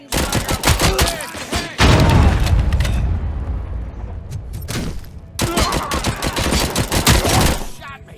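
Heavy gunfire in the RoboCop: Rogue City video game, loud bursts of automatic shots and booming impacts in two intense stretches with a quieter gap between, and shouted voices amid the fighting.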